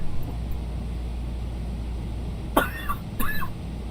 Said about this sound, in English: Husband has a cough.